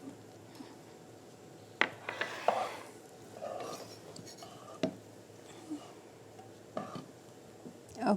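Black-eyed peas are stirred in a pot, giving scattered clinks and scrapes of a spoon against the metal at irregular intervals over a quiet background.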